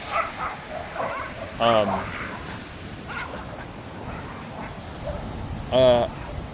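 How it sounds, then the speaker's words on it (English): Dogs in a scuffle give two short sharp bursts of barking and yelping, separated by several seconds of quieter background noise, with no talking. "we got a dog fight here"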